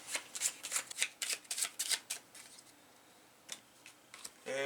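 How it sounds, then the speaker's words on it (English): A deck of board game cards is riffled and shuffled in quick bursts of crisp flutters, then a pause and a few softer taps and snaps, close and clear with no talking. "I gotta shuffle this deck up."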